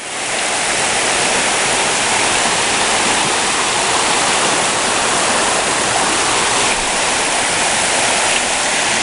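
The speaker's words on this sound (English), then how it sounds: "Beautiful Ledbetter Creek here." Mountain creek water rushing steadily along Ledbetter Creek on a trail ford, a loud, continuous broadband flow close by with no pauses or voices.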